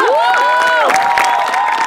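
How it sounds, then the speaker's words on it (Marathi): A theatre audience at a live Marathi comedy show claps and cheers loudly and steadily, with whoops and crowd shouts rising over a continuous wash of applause. "प्लीज जोरात टाळ्या वाजवूया"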